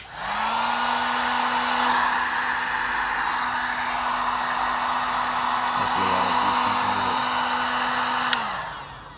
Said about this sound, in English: You can hit it with a heat gun.